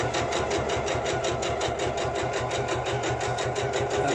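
A sewing machine topstitches a fabric pouch at 0.5 from the edge, running steadily with a fast, even mechanical rhythm of needle strokes, close and continuous without talk.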